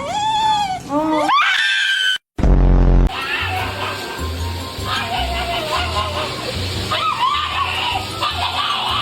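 A Shiba Inu dog screams and yowls in long, rising wails while being bathed, loud and close, with a brief gap and a burst of other noise partway through and further howls under running bath sounds.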